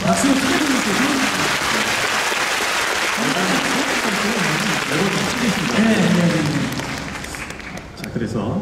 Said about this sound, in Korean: 박수 크게 주세요.